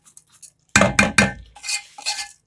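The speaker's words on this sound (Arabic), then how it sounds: "نحمر الشعرية كده" Vermicelli toasting in a pot is stirred, producing a few sharp, close scraping clinks of a spoon against the metal in quick succession, followed by softer rustling.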